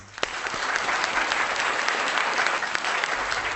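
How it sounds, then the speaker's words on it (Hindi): Loud, dense applause from the audience at a Hindi kavi sammelan poetry gathering, greeting a schoolteacher poet as she comes up; steady clapping fills the whole stretch without pause. "जोरदार तालियों के साथ संध्या सरल जी का स्वागत करें।"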